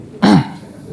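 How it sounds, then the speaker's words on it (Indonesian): A single short, close throat-clear, a voiced rasping 'ahem' lasting about a fifth of a second, demonstrated as part of a sunnah practice during a basic fiqh class, with quiet room tone before and after. "sunnah berdeham 3 kali."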